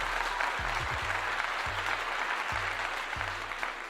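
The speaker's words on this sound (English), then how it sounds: "Let's give him a clap again." A crowd applauds in a steady, dense wash of clapping for a young college running back, moderately quiet and even, with low, hum-like tones sounding underneath.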